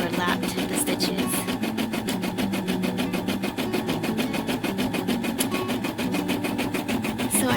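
An embroidery machine stitches a keychain in the hoop, its needle tapping in a fast steady rhythm with a mechanical whir, sounding close and moderately loud throughout, with a slight struggle where stitches overlap.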